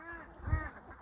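Laying ducks in a netted enclosure on a Bangladeshi duck farm give a single faint, nasal quack at close range.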